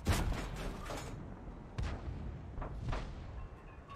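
Tank cannon fire in a World War II video game battle with T-34 and Cromwell tanks: a series of heavy booming shots with rumbling low-end, several blasts in quick succession then spaced reports fading out.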